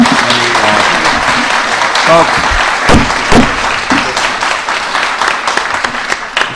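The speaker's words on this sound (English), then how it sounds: "just hold your applause" Clapping from attendees at a public zoning meeting, a burst of applause that thins and fades while voices talk over it, with a few sharp knocks.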